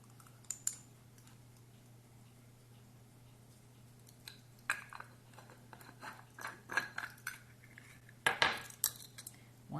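A whisk clinking against a bowl while mixing clafoutis batter, scattered light taps that grow busier and louder toward the end over a faint hum.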